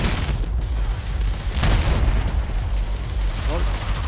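Grenade blast in Battlefield 4 gameplay, a heavy booming rumble with ongoing battle noise and gunfire, shouted game dialogue mixed in.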